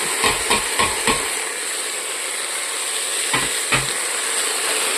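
Millet powder stirred in a pan with a spoon, several scraping knocks in a quick cluster at the start and two more later, over a steady background hiss.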